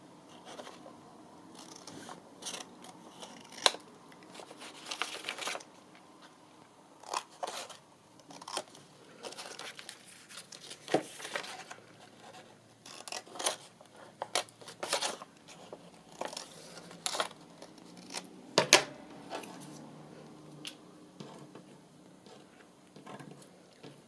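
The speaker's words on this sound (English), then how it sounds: "This time I'm doing it properly. I'll cut off the corners." Scissors snipping off the corners of folded paper in scattered, irregular cuts with soft crinkling and handling noises between them, close and fairly quiet over about twenty seconds, with no talk.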